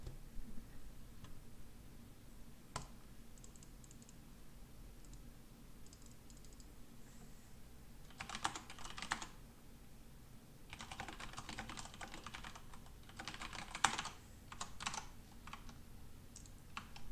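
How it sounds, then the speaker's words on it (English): Typing on a computer keyboard during an Age of Empires III tournament grand final broadcast, with scattered quiet clicks followed by denser bursts of rapid keystrokes, faint and close, with no talking. "And just more mysterious typing."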